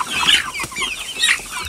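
Chickens in a farm pen cluck in a few short, close bursts, with bright sharp calls standing out over quiet background.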